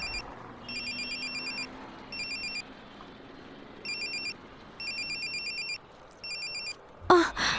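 A mobile phone ringtone, from a phone inside a bag, plays in repeated electronic bursts with short pauses between, then ends abruptly with a sudden rustling clatter.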